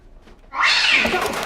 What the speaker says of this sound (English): What is up with that cat? Is someone throwing it?